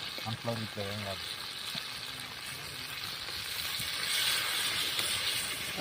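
Oil poured over a whole tandoori fish frying, a steady sizzle that swells louder toward the end, with a voice talking over it at the start.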